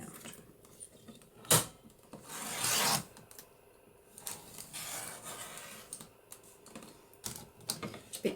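Small scissors snip and rasp through a paper journaling tag, trimming off tiny bits in soft, close cuts and scraping strokes with quiet pauses between them.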